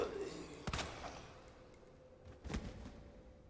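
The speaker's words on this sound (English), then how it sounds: "That was way too many shots." Gunfire in Resident Evil 2, a rapid burst of several sharp shots followed by a second quieter volley, fairly faint.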